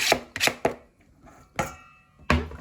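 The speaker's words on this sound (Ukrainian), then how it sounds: "і нарізаємо зелень" A knife chops fresh herbs such as parsley on a cutting board in five or six sharp, separate strokes, close and distinct, some coming in quick pairs with short pauses between them, with no voices.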